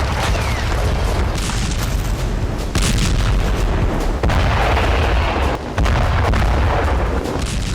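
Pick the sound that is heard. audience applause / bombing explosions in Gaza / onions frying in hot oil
bombing explosions in Gaza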